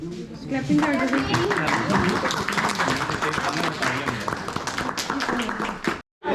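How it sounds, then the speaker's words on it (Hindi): Applause from a group at a cooking course in a college kitchen, a dense clatter of clapping that runs steadily for several seconds with voices mixed in, then cuts off abruptly near the end. "तालियां बजाओ भाई।"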